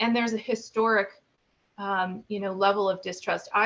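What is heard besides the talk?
No everyday noise stands out behind the speech.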